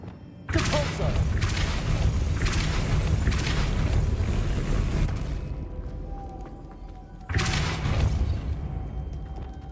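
A Depulso force-push spell going off in the wizarding game Hogwarts Legacy, a loud booming thud that swells and rumbles for several seconds, fades, then a second blast bursts in near the end.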